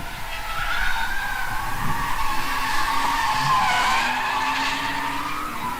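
A drift competition car's engine revs steadily while tires squeal and skid in a long continuous drift, moderately loud and fairly close.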